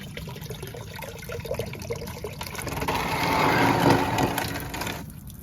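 Water running steadily into a bucket while flushing the coolant system of a 6.0 engine, a continuous close splashing wash that grows louder and fuller as the bucket fills, then cuts back near the end.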